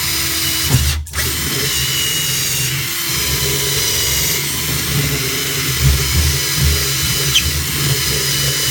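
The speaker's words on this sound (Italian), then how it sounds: "si riesce ad ottenere una fresatura sul legno che altrimenti sarebbe quasi impossibile con una classica punta di trapano" A drill fitted with a Lidl Parkside step bit mills into wood, giving a steady, close, loud motor whine that runs throughout, broken only by a brief sharp click near the start.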